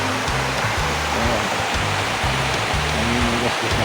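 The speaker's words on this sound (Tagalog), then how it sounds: "makinig mo yung nagaslas ng tubig" Steady rushing water from a creek on a small plantation, a continuous broadband wash with no voices, close and fairly loud throughout.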